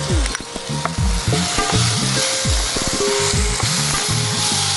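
Finely chopped onion frying in a pan, a loud close sizzle with repeated scraping stirs and clinks in an uneven rhythm, no voices.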